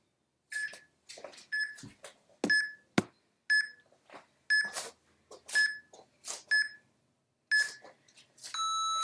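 Electronic workout timer beeps in short, evenly spaced tones, each brief beep repeating with pauses between, ending in a faster run of chirps; clear and close with no talking.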